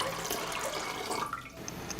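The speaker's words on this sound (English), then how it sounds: "I pour water into a pot and wait for it to boil." Water pours from a tap into a cooking pot, a steady broadband splashing rush filling the whole stretch at close range, easing slightly near the end, with no talking.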